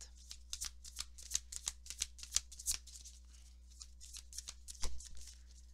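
Tarot cards are shuffled by hand before a three-card draw, heard as quiet, close bursts of riffling and sliding card flicks in an irregular rhythm with no voice.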